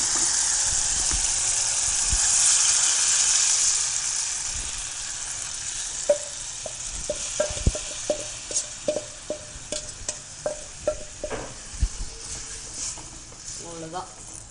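Tamarind water poured into hot oil sizzles loudly at first, then settles into a softer fry while a spoon knocks and scrapes repeatedly against the pan.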